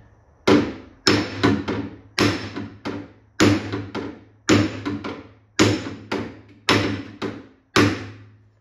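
Hammer tapping sheet metal on a 1949 Ford pickup truck door during bodywork: a series of about a dozen sharp, close metallic taps in loose pairs and singles with brief ringing decay, alone without talk.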